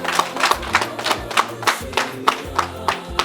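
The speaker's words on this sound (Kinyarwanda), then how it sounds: "bongere babaha amashyi rwose" Rhythmic clapping from a party audience, with regular claps about twice a second over music, close and steady.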